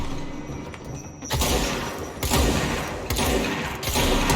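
Rapid automatic gunfire from a firefight in the video game Control, a steady rattling stream that swells into heavier bursts, loud and unbroken by speech.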